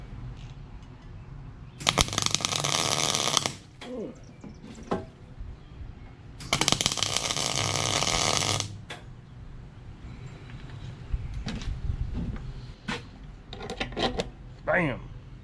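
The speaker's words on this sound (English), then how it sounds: "Okay, now I can weld it on." Turn signal brackets being welded onto an International dump truck: two loud, crackling welding bursts of about two seconds each, separated by quieter workshop clanks and scattered short knocks.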